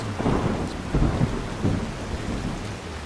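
Rolling thunder over steady rain in a thunderstorm in the video game Skyrim, with three low rumbling swells about every 0.7 seconds against a constant wash of rainfall.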